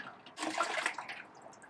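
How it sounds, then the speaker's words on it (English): Water splashing into homebrew wort for a peated hoppy rye strong beer, run through a pump: a short, close burst of splashing and pouring liquid that rises sharply, then settles into a softer trickle. "I just splashed water into my wort."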